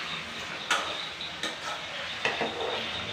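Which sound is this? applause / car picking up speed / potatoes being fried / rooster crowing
potatoes being fried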